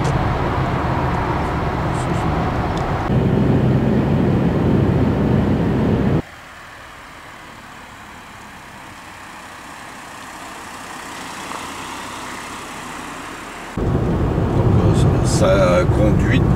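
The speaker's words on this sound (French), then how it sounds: "avec le moteur de 82 chevaux, on passe très bien la montée." A Peugeot 108 with an 82-horsepower engine climbs a hill, its motor droning steadily at close range, quieter through the middle stretch and louder at the start and end, with someone talking over parts of it.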